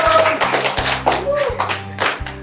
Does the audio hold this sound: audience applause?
yes